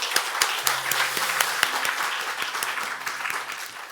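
A church congregation at a Korean Sunday service applauds steadily throughout, a dense wash of many hands with a soft sustained musical tone underneath.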